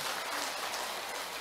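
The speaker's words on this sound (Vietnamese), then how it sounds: "Chúng ta cho một tràng pháo tay thật lớn." Applause from a church gathering where wheelchairs are being donated, a soft, continuous wash of many hands clapping, heard at a distance and fairly faint throughout.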